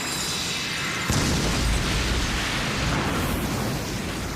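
A sudden loud explosive burst kicks in after about a second, followed by a sustained roaring, crackling blast effect that fills the rest of the clip, a special attack in the Beyblade Metal Fusion cartoon.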